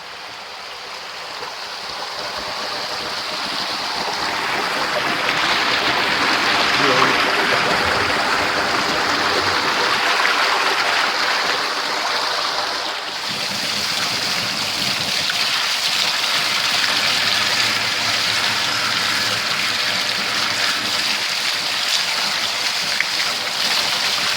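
A river flows steadily on a nature walk in Jamaica, a continuous close rushing of water that holds level throughout with no voices over it.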